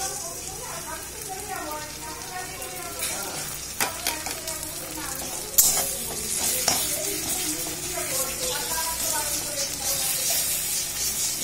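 Mutton curry with garlic and ginger paste being stirred in a frying pan, a steady sizzle with repeated spoon scrapes and a few sharper clinks, close and moderately loud, with a voice speaking at times.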